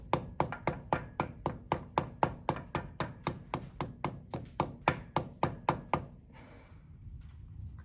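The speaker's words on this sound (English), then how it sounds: "I'll get a socket on there just to tap it home" A socket is used to tap a new oil seal into place: about twenty even, sharp metallic knocks in a steady rhythm, close and clear, then a quiet stop.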